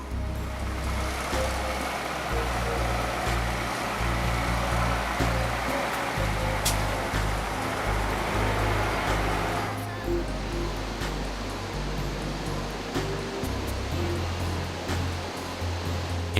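Water flows continuously in Nepal, a steady broadband rush like a stream or runoff that holds at an even level for the whole stretch, with a low rumble underneath.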